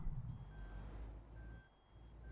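Truck reversing alarm in Euro Truck Simulator 2, evenly spaced electronic beeps repeating over a low idling engine rumble, fairly quiet and alone.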